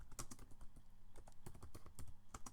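Steady, fast typing on a computer keyboard, clicking keys closely recorded in a quiet room with no voice, keystrokes tapping in an uneven continuous rhythm.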